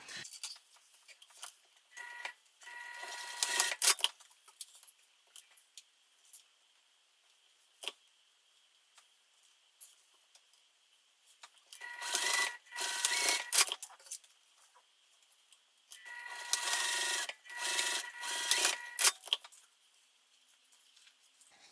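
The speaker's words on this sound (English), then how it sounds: "After I sew this with the seam allowance given the pattern" A sewing machine stitches a seam on a fabric pouch in several quick runs, with short pauses and soft handling noises between the bursts.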